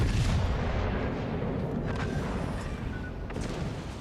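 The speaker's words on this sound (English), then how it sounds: "We take those torpedoes." Torpedoes striking a battleship in World of Warships: Legends, heard as a dense, rumbling wash of booming explosions that fades slightly over a few seconds.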